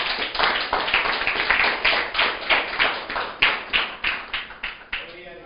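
A church congregation claps together in rhythm during a Spanish-language sermon, a fairly loud, steady beat of roughly three to four claps per second with voices mingled underneath.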